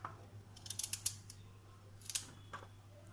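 Knife cutting radish into thin round slices for vinegar pickle, a series of crisp chopping clicks in two bursts, close and fairly quiet over a low steady hum.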